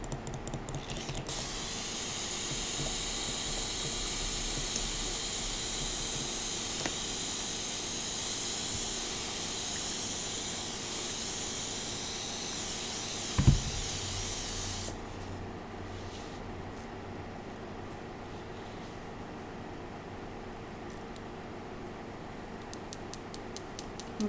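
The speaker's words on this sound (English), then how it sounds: "the flow of these inks with an airbrush" An airbrush sprays white alcohol ink as a steady, close hiss for about fifteen seconds, then cuts off abruptly, leaving faint room noise with a brief clunk just before the stop.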